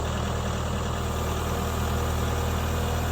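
A tractor engine idles steadily close by, a continuous low rumble with a mid-range drone and no speech over it.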